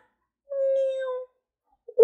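A cat meow sound effect, a single drawn-out tonal mew of under a second, clean and alone, followed by the start of another short sound.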